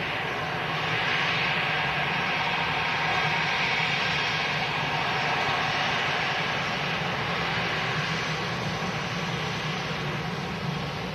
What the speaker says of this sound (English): As this aircraft arrives out to Hurghada